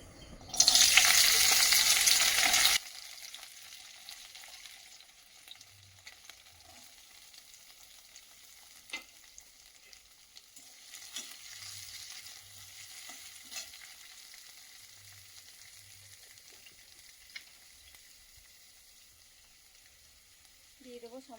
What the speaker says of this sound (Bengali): কেটে নিয়েছি গাজর আর বিনস। এবার আমরা এগুলোকে হালকা করে ভেজে নেব।